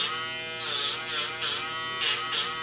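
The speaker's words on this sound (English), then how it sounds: "And we're going to keep tapping the nail with the Dremel" A Dremel rotary tool grinds and rounds a pet's toenail during a trim, a steady high-pitched whirring buzz close to the microphone that swells briefly several times as the bit taps against the nail.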